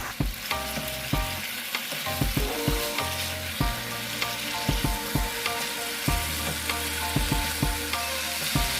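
Bok choy and beef stir-fry in a hot pan for a Korean dish, a loud continuous sizzle broken by frequent sharp scrapes and clanks of a utensil tossing the food, with no talking.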